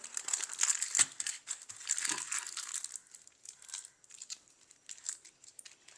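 White paper being handled and folded in a home kitchen while preparing chicken sausage, giving close, soft crinkling and rustling that is busier early on and then thins into scattered crackles.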